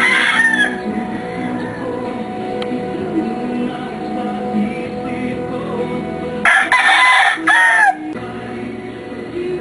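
A round head gamefowl rooster kept with sweater hens crows twice nearby, a first call at the start and a louder, fuller crow a few seconds later, over a steady background hum.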